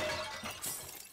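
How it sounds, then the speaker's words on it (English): Ceramic vases shattering in Resident Evil Village, a quick crash and spill of breaking pottery up close, fading into scattered tinkling debris over about a second. "Sorry, I'm smashing all your vases."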